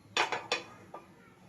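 Metal cookware clatter as a tawa griddle is set down onto a kadai after steaming chicken momos: two or three sharp, close clanks in quick succession, then a fainter knock, with no talking.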